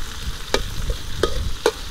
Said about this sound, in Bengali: পেঁয়াজ ছেড়ে দিচ্ছি আমরা এখন।